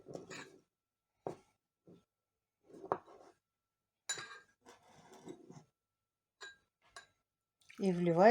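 A spoon scraping and clinking against a glass in a few scattered bursts while stirring yeast and sugar for a hop starter, with a short voice at the end.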